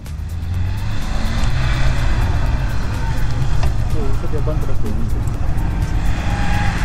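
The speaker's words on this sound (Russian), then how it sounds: "неплохо едет. турбо Нива" A turbocharged Lada Niva drives across sand at an off-road competition in Orsk, its loud, steady engine drone running close and continuous for the whole stretch, with voices talking underneath.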